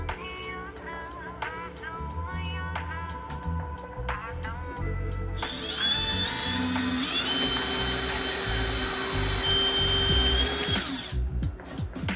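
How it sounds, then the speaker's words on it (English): Power drill pre-drilling countersink holes for screws in a kitchen cabinet, with short taps, then a sustained loud whining drill run that rises in pitch, up close. "all I'm going to do is pre-drill the countersink spot for 2 screws"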